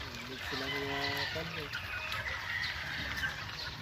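Game fowl chickens cluck in short harmonic bursts over a busy outdoor farm background, with a voice talking at the same time.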